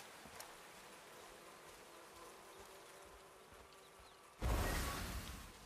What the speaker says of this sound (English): Not today, bees.